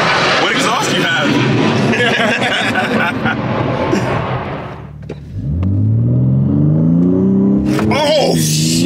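BMW M4 Competition engine and exhaust roaring loudly through a full, dense rev, then dropping to a lower rising drone as the revs change, with people talking nearby.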